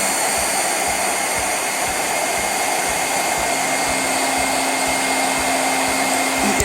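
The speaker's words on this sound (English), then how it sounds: "then you can come in with your heat gun again" A heat gun blows a steady, loud, continuous whoosh close by while puffing white puff paint on a card, with no break in the airflow.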